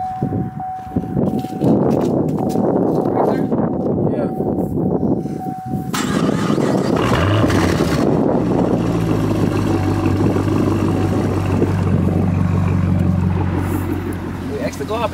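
A car engine cranks and catches, then settles into a loud, steady idle with a deep low rumble at the exhaust pipes. The first part is busy with talk and handling noise before the engine takes over.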